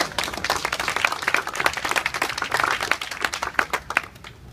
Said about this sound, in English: Vito Caruso, give him a round of applause.